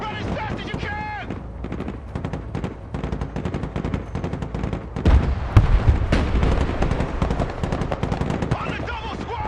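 Rapid bursts of gunfire fill a battle in the video game Broken Arrow, loud and continuous with overlapping shots and heavier booms midway, while a voice shouts orders over the din.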